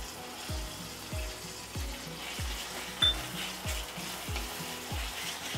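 A chopped tomato fries in spice masala for a Maharashtrian spicy chicken curry, sizzling steadily with a soft, even crackle and faint stirring clinks throughout.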